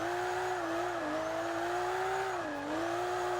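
Car drifting in the Gran Turismo video game, a steady engine drone that rises and dips slightly as the revs shift, with a thin tire-squeal edge, alone and at a constant distance.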